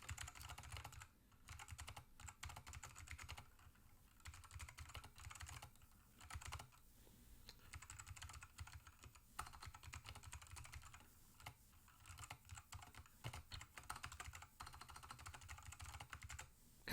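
Someone types a note on a computer keyboard in a word processor, with quiet, close key clicks in uneven bursts and short pauses between them.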